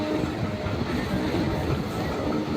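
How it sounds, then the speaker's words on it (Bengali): A local train rolls slowly along with a continuous rumbling, rattling drone heard from on board, loud and steady throughout. "দেখুন ট্রেনটা আস্তে আস্তে যাচ্ছে, আরেকটি ট্রেন আসলো।"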